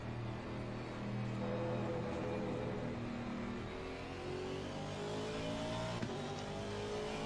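Race cars in a sim racing video game at Misano, with several engines droning and revving together as faster cars approach, a steady layered roar at moderate level.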